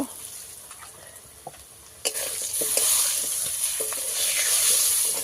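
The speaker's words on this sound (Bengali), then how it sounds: "আলু অল্প ভাজে নিব" Potatoes fry in a pan for a Bengali dish, a faint quiet stretch that suddenly becomes a loud, steady hiss of sizzling oil with stirring clicks over it, close and without talk.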